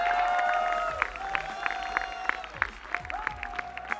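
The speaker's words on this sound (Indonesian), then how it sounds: "bisa minta tepuk tangan untuk para kontestan kita pada malam hari ini" A live audience at an evening talent contest applauds the contestants, crowd clapping and scattered cheers swelling under tonal stage music with a few sharp accents.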